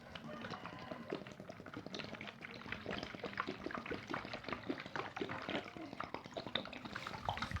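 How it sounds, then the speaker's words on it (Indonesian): About a liter of water poured from a container into another vessel, a steady close splashing trickle running for several seconds with a person speaking over it. "Kemudian kita masukkan air sekitar 1 liter teman-teman."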